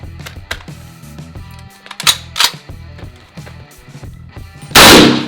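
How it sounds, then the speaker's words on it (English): Rapid M1 Carbine rifle shots hitting shaken soda cans, a string of sharp, loud cracks at uneven intervals, ending in a burst of spraying fizz close by. "shoot some shaken up soda cans with the M1 Carbine"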